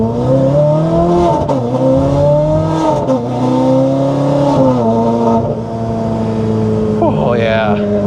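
Ferrari 430 Scuderia or Lamborghini Gallardo Superleggera engine accelerating toward 8,500 RPM, loud rising revs that climb in pitch, dip at gear shifts and climb again, with a voice talking briefly near the end.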